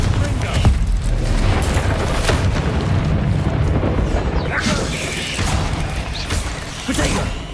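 Confringo spell explosions in the video game Hogwarts Legacy boom repeatedly through a dense, loud wall of magical combat noise, with a voice breaking in now and then.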